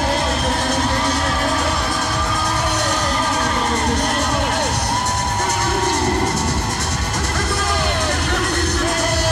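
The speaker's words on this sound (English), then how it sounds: "They're exhorting the crowd, make a little more noise" A loud, dense stadium crowd cheers and shouts throughout a Lingerie Football League game between Seattle Mist and LA Temptation, a continuous roar with whoops and yells rising and falling.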